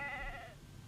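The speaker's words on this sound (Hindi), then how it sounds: "ये हमारी भेड़ें पहाड़ी के नीचे हाँक रहा था" A single sheep bleats while being herded down a hillside, one short wavering cry fading out, fairly faint.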